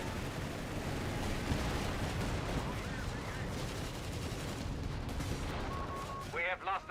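Anti-tank gun firing amid battle in Company of Heroes 3, a dense rumble of artillery and gunfire booms layered over a steady war-game din, with a voice talking briefly near the end.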